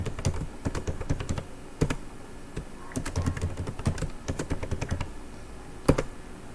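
A password is typed on a computer keyboard in quick, irregular bursts of close, crisp key clicks, with short pauses between runs of keystrokes.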